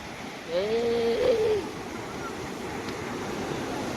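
A steady broadband rush of surf and wind at a crowded beach in Goa, with a brief voice-like tone early on over the constant wash.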